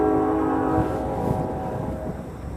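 A train passes near a riverside walk in Dubuque, Iowa, its steady horn tone sounding first, then fading into a continuous low rumble of rolling cars in the background.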